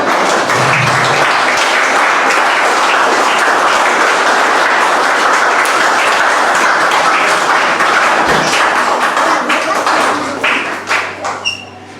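A church congregation bursts into sustained, dense applause and cheering at a worship service, the clapping steady and loud throughout before thinning out near the end.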